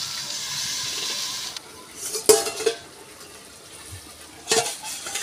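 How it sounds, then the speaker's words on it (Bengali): Metal lid set down over a pot of cooking food, a sharp clanking clink followed by a second lid clatter later, over a faint steady hiss of steam. "আমি একটু ঢাকা দিয়ে দিচ্ছি।"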